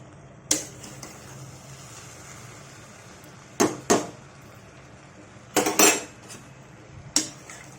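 A utensil clanks against a pan while ponnaganti leaf curry with tomatoes, salt and turmeric is stirred, giving about six sharp metallic knocks spread unevenly, some in quick pairs, over quiet kitchen background.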